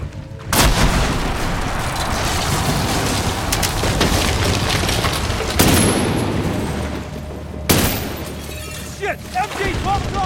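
Machine gun fire in the Medal of Honor Warfighter video game during a hostage rescue in the Philippines: sustained loud bursts with heavy booming impacts and sharp blasts punctuating a continuous battle din.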